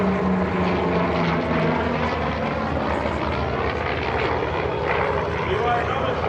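A Korean War era F4U Corsair with its huge propeller drones overhead at an EAA AirVenture air show, a steady throbbing engine and prop roar that fills the whole stretch, with someone narrating over it.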